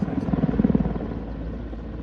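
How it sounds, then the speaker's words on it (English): Mi-35 Hind, an export Mi-24V attack helicopter, flying at the Duxford Battle of Britain Airshow, its rotor giving a loud, low, rhythmic thudding that eases slightly as it turns away. "there's the Mi-35, an export version of the Mi-24V, turning away first"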